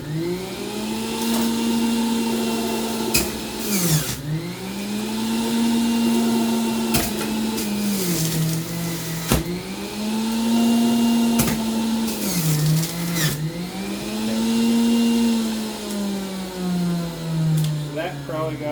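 A home juicer runs steadily with a motor drone that dips and recovers in repeated cycles as watermelon and other fruit are fed through, loud and continuous with no voices.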